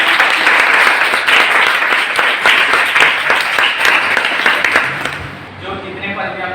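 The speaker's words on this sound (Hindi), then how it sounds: "एक बार जोरदार तालियां" Loud, dense applause from a large crowd at an honoring ceremony, steady for several seconds before tapering off near the end.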